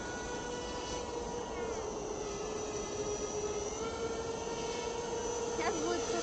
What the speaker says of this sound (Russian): Ну, это самолет.